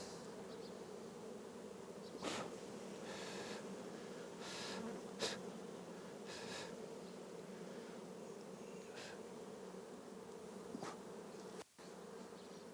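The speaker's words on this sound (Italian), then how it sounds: "Se lo si fa al mattino le api sono più tranquille" Honeybees hum in a steady, dense drone from an open hive during a morning inspection, with occasional louder close passes and faint clicks of handling.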